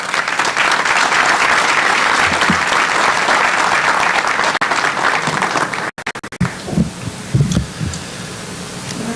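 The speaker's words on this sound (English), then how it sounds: "Please give MDO Teal a round of applause." Town hall audience in Philadelphia applauding loudly and steadily for several seconds, then breaking off abruptly into scattered claps, shuffling and low murmurs.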